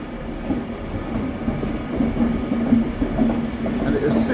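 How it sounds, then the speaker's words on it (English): A Pendolino electric train named City of Stoke-on-Trent, working the Euston to Edinburgh service at Carlisle, rumbles past steadily at moderate loudness, with a faint rhythmic clatter of wheels over rail joints throughout. "This is actually the same Pendolino that we saw on 9 Sierra 44 a couple of hours ago"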